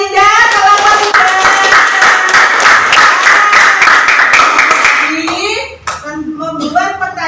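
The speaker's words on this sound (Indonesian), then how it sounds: "Tepuk tangan buat Arinda, kelompok 3" A classroom full of pupils claps together for a classmate after a presentation, with dense, continuous hand clapping for about five seconds before it stops and a few voices break out.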